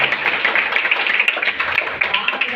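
An audience at a DXN business seminar in India claps loudly and continuously, a dense, even roll of hands for a few seconds.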